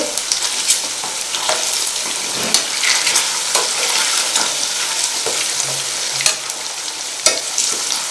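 Korameenu fish pieces frying on low to medium heat for pickle get stirred in the pan: a loud, steady sizzle throughout, broken by intermittent scraping stirs, with no talking.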